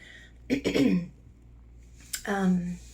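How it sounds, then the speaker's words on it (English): Someone clears their throat twice, close and distinct, with a brief quiet gap between the two rough, voiced rasps. "I'm gonna cough a lot during this or clear my throat"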